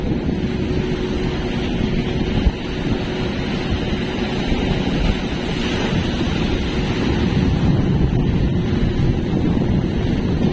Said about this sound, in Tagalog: So, lalaki ng alon dito sa atras.